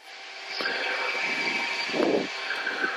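Blue Angels jet aircraft on its takeoff roll, a steady broad engine roar holding at a constant level throughout, with a brief louder low rumble swelling near the end.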